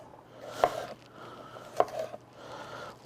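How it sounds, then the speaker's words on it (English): Knife dicing green pepper on a cutting board, two distinct chopping knocks about a second apart with soft scraping between, close and fairly quiet. "We'll do the same with our green pepper. Dice it up into nice"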